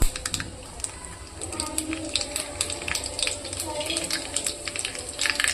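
Mustard seeds and cumin crackle and sizzle in hot oil, with a steady, close spatter of sharp pops running throughout and spots of low background noise.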